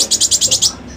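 A long-tailed shrike sings a quick run of six bright, high repeated notes, close and clear, then falls quiet.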